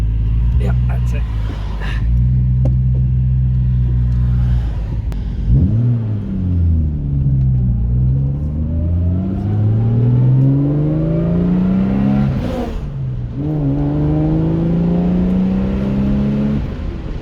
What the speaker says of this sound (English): the adrenaline you get hearing that straight 6, there is not one lump in the tune of that engine